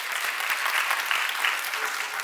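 Sustained audience applause at a 150th foundation day celebration, dense and steady clapping from a large crowd throughout, fairly loud with no break.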